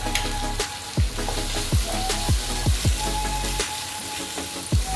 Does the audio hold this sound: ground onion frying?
yes